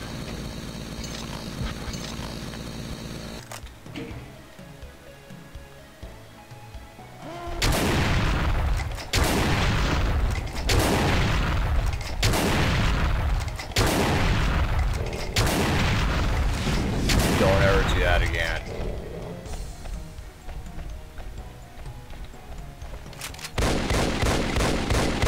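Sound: gunfire in the video game Doom 2

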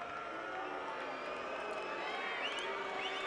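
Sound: crowd booing at a sports match

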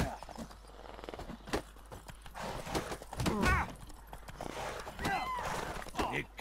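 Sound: horse galloping in video game The Witcher 3

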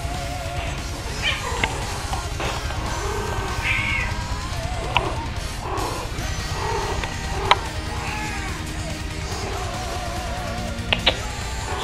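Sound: cat meowing at night

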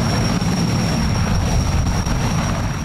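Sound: cargo helicopter

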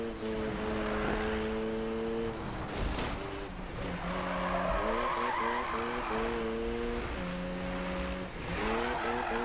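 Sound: car tires skidding while drifting in Need for Speed 2015 video game

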